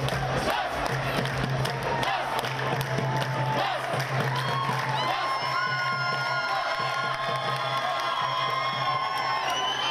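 A large Oran crowd at the Mediterranean Games roars, whistles and cheers for Egyptian teams, a loud, continuous wall of voices with shrill whistles and horns rising toward the end.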